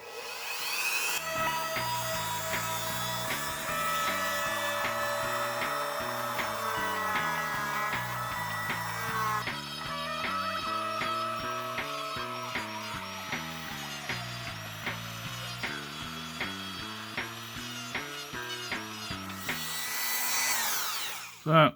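A Dremel rotary tool grinding the plastic of an action figure, a steady high whine whose pitch rises and falls as the tool bites into the plastic and eases off, running continuously for about twenty seconds.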